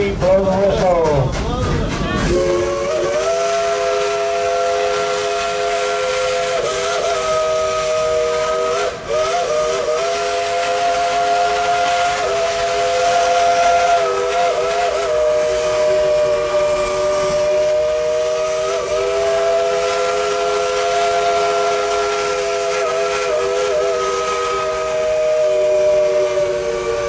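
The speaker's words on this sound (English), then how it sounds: "Three, blow the whistle." A steam locomotive whistle on the Dollywood train in the Smoky Mountains sounds loud and close, a long sustained multi-tone blast of nearly half a minute with slight wavering pitch and a breathy hiss, several brief dips and restarts mid-blow, no talk over it.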